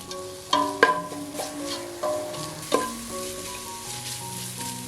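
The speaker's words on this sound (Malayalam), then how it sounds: "സവാളയൊക്കെ വഴറ്റിയെടുക്കാം അല്പം ഉപ്പും കൂടെ ചേർക്കാം" Onions, ginger, garlic and green chili sauté in a pan for a Kerala-style mutton biryani, a steady close sizzle broken by several sharp clinks of a spoon stirring against the pan.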